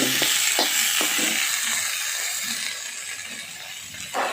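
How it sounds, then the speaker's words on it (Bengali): Pabda fish curry with potato and eggplant being stirred in a pot, a steady broadband sizzle with a few soft scraping clicks of the spoon, fairly loud and close, with no voices. "একটু নাড়াচাড়া করে দিচ্ছি"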